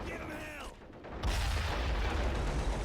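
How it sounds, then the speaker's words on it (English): Mortar shells crash down close by in a Cold War 1975 war video game mod, a loud heavy boom erupting after a brief lull and rumbling on with dense blast noise. "Mortars landing close though."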